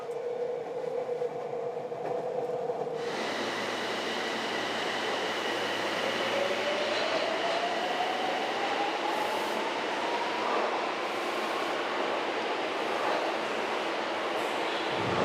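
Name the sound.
crowded commuter train running in Tokyo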